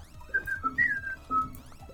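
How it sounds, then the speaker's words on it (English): A person whistles a short, wandering tune in clear sustained tones with brief pauses, heard alone over a faint background murmur in a Coop Life 2 game stream. "Innocent whistling."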